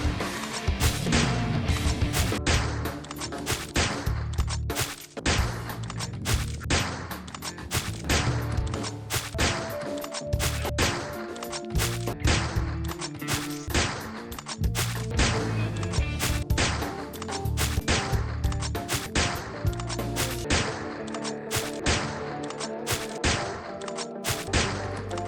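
Sniper rifle headshots in the game Deadbolt: a long, dense run of sharp, punchy shots and heavy impact thuds arrives in uneven clusters, loud and close throughout with hardly a pause.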